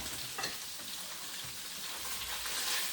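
Tofu frying in a pan as pieces are turned over, giving a soft, continuous crackling sizzle with light scraping and tapping from the flipping, fairly quiet and steady throughout with no talking.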